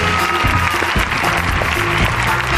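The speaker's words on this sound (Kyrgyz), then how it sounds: "Кол чабуулар менен агайыбызды тосуп алабыз." Studio audience at a Kyrgyz TV talk show applauds to welcome a guest, a dense, loud and continuous burst of clapping heard up close with no speech over it.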